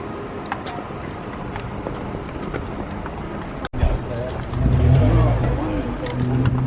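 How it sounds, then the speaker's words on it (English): A car passes on a road in Stratford-upon-Avon, a rising rumble of tyres and engine swelling close by midway through, while a person talks over steady outdoor background noise. "We've got a car coming from the road."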